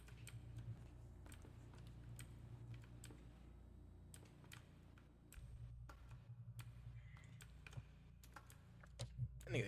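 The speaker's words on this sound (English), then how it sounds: "clicking the shit out of his keyboard" Rapid clicks from a computer keyboard during a Panicore gaming session, irregular bursts of sharp taps fairly close, over a low steady background hum.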